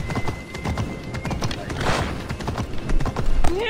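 Horse hooves clip-clop in the video game Assassin's Creed Odyssey, a quick uneven patter of steps running throughout under game music and other background sounds.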